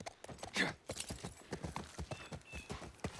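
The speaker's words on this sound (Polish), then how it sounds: "Skakuj na konia." Horse hooves clip-clopping in the video game The Last of Us Part 1, a quick, even run of close hoofbeats over a few seconds with no talking.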